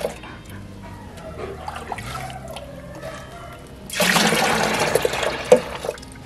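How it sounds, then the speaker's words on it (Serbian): Baking soda solution is poured into 5 liters of water, with a few quiet clinks followed by a sudden loud gush of liquid that runs steadily for the last two seconds. "Sipat ćemo ovaj rastvor u 5 litara vode."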